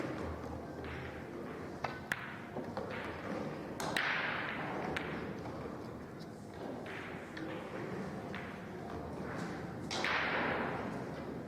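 In a professional 9-ball pool match, a cue strikes the ball for a corner-pocket shot, heard as a few crisp clicks and knocks beneath steady commentary.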